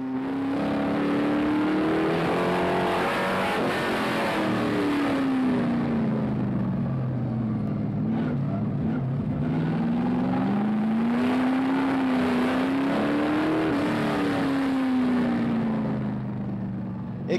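Race cars from the GP3R series in 2004 run on a walled street circuit, a steady loud engine drone that rises and falls in pitch as the cars accelerate, brake and shift gears.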